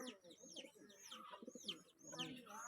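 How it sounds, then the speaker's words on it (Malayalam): Pigeons coo in soft, repeated bursts near a house roof after rain, with chirpy bird calls mixed in and faint human voices in the background. "കൊറേ പ്രാക്കളുണ്ടല്ലോ"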